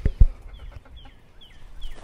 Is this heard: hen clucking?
yes